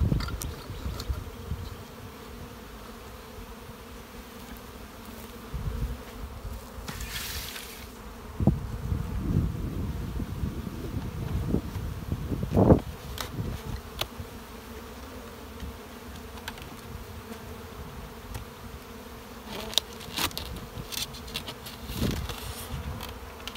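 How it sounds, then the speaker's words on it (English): Honey bees hum steadily at a small hive, a soft, continuous close-up buzz with individual insects swelling louder as they pass near, no voices. "Bees in this hive."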